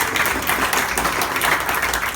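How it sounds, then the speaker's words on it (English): Comedy club audience applauding a stand-up comic, a steady wash of many hands clapping that fills the whole moment without pause. "That applause I deserve way more than turning 30."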